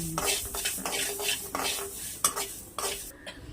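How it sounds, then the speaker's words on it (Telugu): Five spoons of fenugreek seeds dry fry in a pan for cabbage pickle, with a loud, continuous scraping stir of a spatula against the pan and a light rattle of the seeds throughout. "ఫైవ్ స్పూన్స్ ఆఫ్ మెంతులు ఫ్రై చేసుకుందాం డ్రై ఫ్రై"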